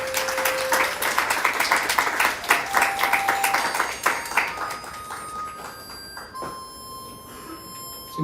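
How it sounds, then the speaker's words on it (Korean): Applause from a church seminar audience rises into a burst of clapping, then thins out and fades, with a few sustained electronic tones sounding toward the end. "박수 한번 드리겠습니다"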